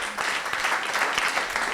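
A festival audience breaks into applause, a dense, steady patter of many hands clapping at moderate volume for a couple of seconds, with no talk over it.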